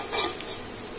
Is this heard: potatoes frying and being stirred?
yes